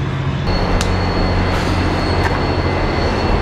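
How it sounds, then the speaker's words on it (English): A loud, steady rumble of a train rolling in, with a faint high tone and a few brief squeals or clanks over the din. "This train coming in here while I shoot the time-lapse is the train that I take"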